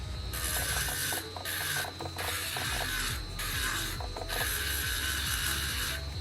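An 800 grit hard resin burr grinds potch off an opal, giving a steady, loud mechanical whine that cuts out briefly several times, with ratcheting clicks running throughout.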